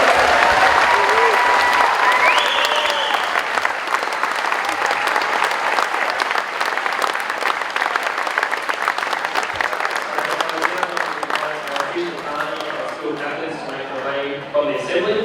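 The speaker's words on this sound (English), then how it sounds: "can we have another big round of applause for Year 12 class?" A crowd at a high school Year 12 graduation assembly gives a big round of applause, loud and dense at first and slowly thinning over about fifteen seconds, with some voices and cheers mixed in.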